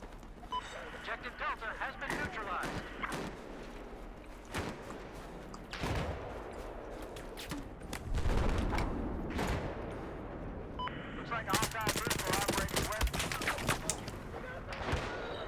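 Bursts of Battlefield 4 gunfire crackle throughout, with dense rapid volleys toward the end, mixed with talking and other game sounds.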